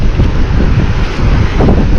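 Ocean waves and wind at a beach, a steady loud roar of surf mixed with gusty wind buffeting close to the microphone, with no voices.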